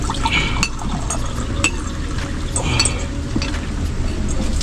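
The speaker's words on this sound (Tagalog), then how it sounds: "Lagyan mo ng tubig." Water is poured into a drinking glass at home, a steady liquid trickle mixed with light clinks of glass and dishes amid room noise.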